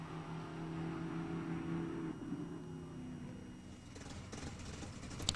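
A red Vauxhall Cresta drag car makes a straight run, its engine droning steadily at a distance before fading, followed by a few faint clicks near the end.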